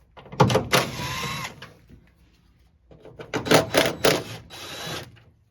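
Bolts on a 2007-2013 Toyota Tundra tailgate being removed with a T30 Torx bit on a power driver. Two close bursts of whirring and rattling are separated by a short quiet gap.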